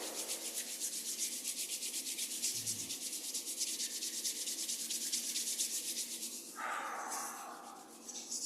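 Palms rub briskly together during a Ba Duan Jin qigong exercise, making a continuous close, dry swishing friction with a fast even rhythm, alone, with a brief different rustle near the end.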